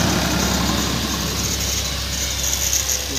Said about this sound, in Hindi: यो नया ट्रैक्टर आया गाँव में